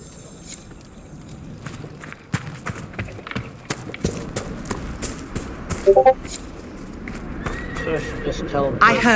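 A purebred chestnut Ferelden Forder horse in the video game Dragon Age Inquisition whinnies amid hoof clip-clops and ambient game sounds, with a sharper neigh in the middle and another near the end.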